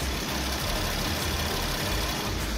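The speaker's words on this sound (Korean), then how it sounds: "밖으로 나가서 엔진 소음 한번 담아보도록 하겠습니다" A gasoline car engine idles with the hood open, producing a smooth, quiet, steady hum with a faint low rumble and no belt squeal or knocking.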